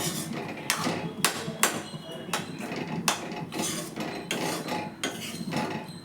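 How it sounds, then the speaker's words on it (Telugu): Rice is stirred into tomato rice in a pan, with a metal spoon scraping and knocking against the cookware in irregular, close clinks and clatters over a low kitchen background. "కొంచెం రైస్ వేసి ఇట్లా కలుపుకోవాలన్నమాట ఫ్రెండ్స్"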